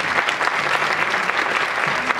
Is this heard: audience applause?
yes